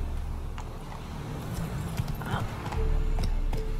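Horse hooves clip-clopping in the video game Witcher 3, a soft, moderately paced rhythm of steps under a faint ambient game background with a slight hum.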